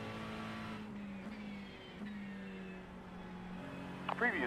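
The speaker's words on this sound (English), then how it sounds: "2 LMP2s inbound. 2 LMPs coming past" Two LMP2 prototype race cars come past at Road Atlanta during Petit Le Mans, heard from inside a McLaren 720S GT3 over its steady engine drone, with a faint voice on the radio.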